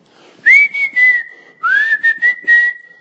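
A man imitates irritating, tuneless whistling: two wavering, breathy phrases, each a sustained pitch with small slides and voiced bursts, up close and fairly loud with a brief pause between them.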